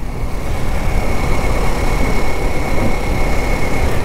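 A Kawasaki Ninja 400 motorcycle engine pulls steadily in sixth gear at low revs on a test ride, giving a continuous loud drone with wind rush and no talking.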